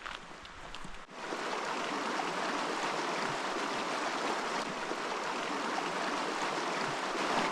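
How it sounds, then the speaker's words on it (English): The West Fork of the Gila River rushes through its canyon in a steady, broadband wash of flowing water, close and continuous after a brief softer moment at the start. "We're going to be walking down the river canyon now, the West Fork of the Gila River."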